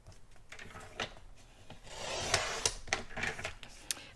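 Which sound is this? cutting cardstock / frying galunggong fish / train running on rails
cutting cardstock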